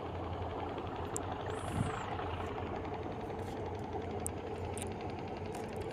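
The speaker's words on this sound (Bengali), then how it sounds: "এখন আমাদের জাহাজ এখান থেকে সরিয়ে দিবে।" Ship engine running steadily as the vessel is moved away from the Meghna Bridge, a continuous low throbbing rumble with no break, close and fairly loud, with a faint high whine and a few light knocks above it.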